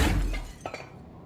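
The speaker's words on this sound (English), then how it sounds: "That is some strong glass." Glass shatters in the video game Control, one loud breaking crash at the start with bright shards that ring out and then fade, followed by a couple of smaller clinks.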